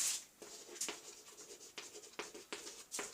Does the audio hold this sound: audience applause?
no